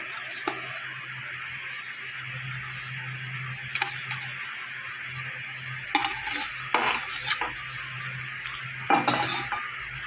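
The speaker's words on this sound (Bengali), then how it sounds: "ঝোলটা আমার ফুটে গেছে এবার আমি ভাজা মাছগুলো দিয়ে দেবো" Fried rohu fish pieces going into a simmering sour fish curry, with faint bubbling and a few sharp clinks of a metal spoon against the pan, quiet and without talk.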